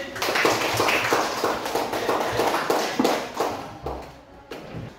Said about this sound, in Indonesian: kalau masih semangat, tepuk tangannya lagi